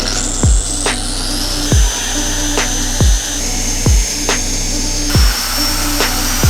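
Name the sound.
UDOS 51E polisher polishing Porsche 996 paint with heavy cut compound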